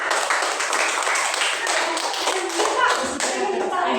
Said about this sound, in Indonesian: Silakan tepuk tangan buat Fitra.